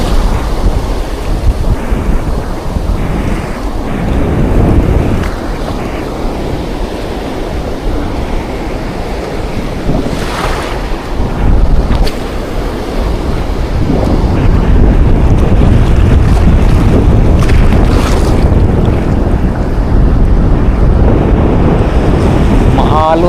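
Rough sea after a typhoon: loud, continuous surf and waves churning near the microphone, with strong wind buffeting throughout and a few brief surges, no talk.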